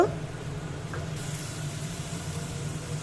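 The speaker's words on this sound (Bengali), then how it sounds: "আলুটা ভালো করে একটু ভেজে নেব" Chopped potato pieces fry in a pan with a soft, steady sizzle and hiss that stays even and fairly quiet throughout.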